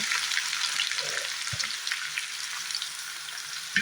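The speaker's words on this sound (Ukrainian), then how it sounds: "От на сковородке хорошо розігрілись, всипаю цибульку." Chopped onion frying in hot sunflower oil in a skillet gives a steady, close, full sizzle throughout, with a soft stir or clink near the middle and no talk.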